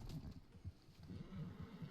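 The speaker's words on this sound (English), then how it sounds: "I'm just clearing out the horses" A horse neighs in a video game, faint and low throughout the short stretch, with a soft muffled quality and no talk.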